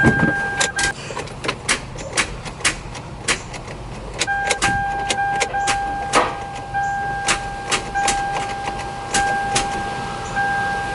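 Toyota MR2 Spyder with a failing starter, cranking in repeated short bursts of clicks and grinding, with a steady tone running through, close and loud, no talk over it.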